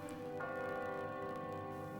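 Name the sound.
church bell ringing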